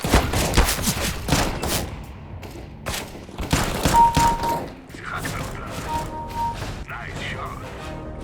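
Rapid gunfire bursts from a Counter-Strike match, played with a Logitech G Pro Hero mouse, crackle loudly through the first seconds, then thin into sparser shots and game effects with faint beeps.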